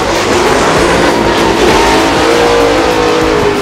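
Formula Drift cars driven by Chelsea Denofa and Chris Forsberg roar loudly through a drift battle at Long Beach, engines revving hard under a dense wash of tire noise.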